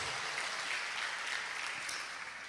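A church congregation claps together in steady, dense applause that holds evenly at a moderate level throughout, with no voices rising above it.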